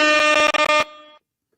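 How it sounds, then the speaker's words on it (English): Air horn sound effect on a live wrestling podcast, a loud, harsh, buzzy blast stuttering in a few rapid bursts before cutting off with a brief fading tail. "Air horn"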